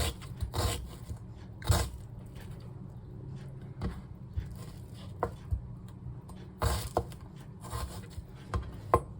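A knife finely chopping vegetables on a cutting board while making cucumber kimchi: close, sharp taps in irregular bursts with quiet scraping and a low background hum between strokes.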